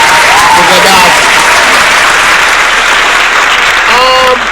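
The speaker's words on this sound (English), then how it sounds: "Can we get an applause for Gaddafi?" Applause with some whooping from an audience, continuous and loud, with voices talking over the start and again near the end.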